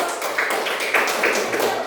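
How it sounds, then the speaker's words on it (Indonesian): Children in a classroom clap their hands together, quick, fairly loud claps grouped into a short rhythmic burst that lasts under two seconds, with no talk over it. "Tepuk tangan dulu."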